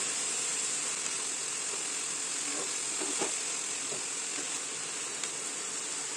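Fenugreek greens sautéing in a pan over a high gas flame with turmeric, a steady, fairly quiet hiss of sizzling that continues evenly throughout with a few faint clinks.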